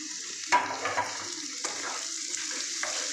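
Coconut, green chili and onion stirred together in a frying pan, giving a soft steady sizzle with a few scraping strokes of a spoon across the pan, close and fairly quiet, with no talking.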